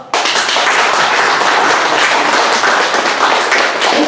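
Dense audience applause at a 2021 current-affairs lecture in Korea rises sharply and holds steadily for about four seconds of continuous clapping.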